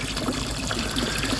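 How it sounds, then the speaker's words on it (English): Water from a garden pond filter pouring back into a pond, a steady trickling, splashing flow close by, alone without voices. "So now it's all emptying back into my pond."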